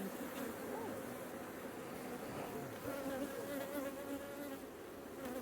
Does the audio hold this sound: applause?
no